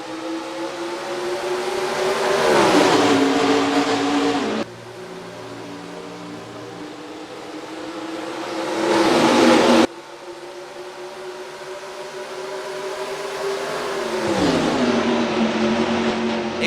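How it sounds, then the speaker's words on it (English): Stock cars race at Rockingham in the NASCAR Racing 2003 video game during the Oreo 300, with loud engine roars swelling and sweeping past one after another and no talking. "Green flag racing at Rockingham for race number 32 of the season."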